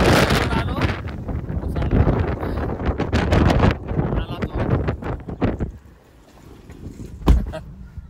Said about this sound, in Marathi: जोरात हवा आहे तिथून